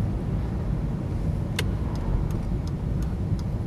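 A Mercedes E220 cabriolet drives along with a steady low engine and road rumble from inside the car, a few faint clicks over it, and no talk.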